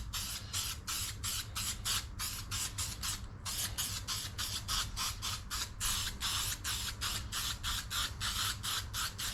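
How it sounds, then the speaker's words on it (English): Aerosol spray paint hisses in rapid short bursts over a welded steel engine bracket for a stand-up jet ski's two-stroke engine, with a steady rhythm of quick passes close by. "So let's get a coat on this."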